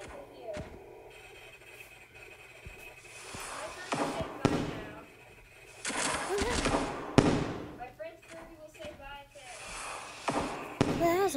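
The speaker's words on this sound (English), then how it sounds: "Celebrate by using fireworks." Video game fireworks: bursts of popping and crackling explosions go off in scattered clusters, with a few whistling tones rising among them and a voice speaking in between.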